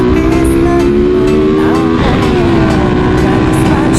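A Honda EX5 motorcycle engine fitted with a racing CDI revs loudly and continuously up close, its pitch holding steady before a brief rise and dip midway, with a voice speaking over it.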